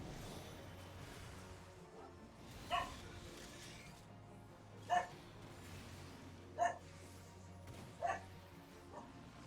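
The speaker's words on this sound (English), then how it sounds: "She's barking at something that she can't hear because she's deaf." A deaf dog barks indoors, four separate single woofs spaced a couple of seconds apart, fairly distant against a quiet room hum.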